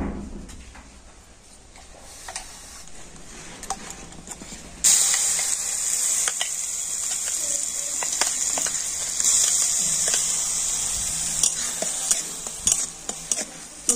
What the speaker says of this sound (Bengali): ঘিয়ের সাথে এই গাজরের পেস্টটা কিন্তু একটু এইভাবে নাড়াচাড়া করে নেব